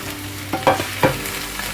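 Okra (bhindi) fries in oil in a pan over medium heat with a steady close sizzle, broken by a few short stirring scrapes.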